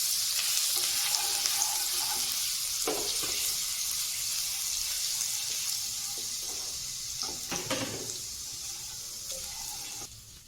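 A small amount of ginger garlic sautéing in a pan, giving a steady, close hiss and sizzle with occasional stirring scrapes.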